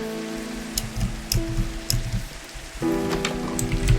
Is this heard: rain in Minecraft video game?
yes